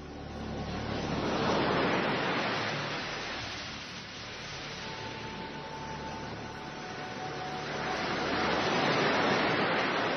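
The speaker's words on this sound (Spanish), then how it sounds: "estas olas que nos pone Carlos Nicolás" A recording of ocean waves plays as a steady, broad surf roar that swells loudly, eases off mid-way, then builds again, with no voices over it.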